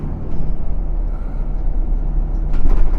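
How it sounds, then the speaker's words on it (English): Inside a moving city bus in Turkistan: a steady low engine rumble and road noise throughout, with a brief louder clatter near the end. "We are already on the bus."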